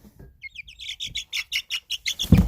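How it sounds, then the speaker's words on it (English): A young chick calls in a quick run of high, rhythmic peeps that grow louder, ending in a brief rustle near the microphone. "We're getting a lot of chatter from Kagome"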